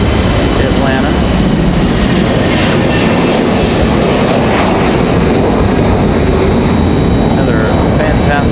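A Delta Airbus A321 jet airliner departs Raleigh Durham International, its engines a loud, continuous, broadband roar that fills the whole stretch without a break.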